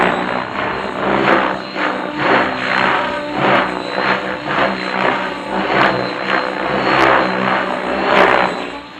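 An RC helicopter flying standard 3D aerobatics gives off a loud, pulsing rotor whine that surges and fades in a regular rhythm throughout as it manoeuvres.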